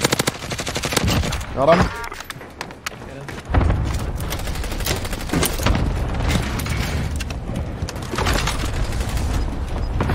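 Rapid automatic gunfire and scattered shots from the video game Warzone, with zombies nearby, crackle loudly in bursts through most of the stretch while players talk excitedly over the action.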